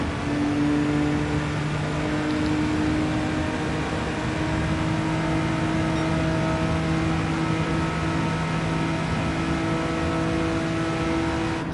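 A car engine in the Gran Turismo 7 racing video game, a steady, sustained hum with droning harmonic tones held at a constant pitch, fairly loud with no talk.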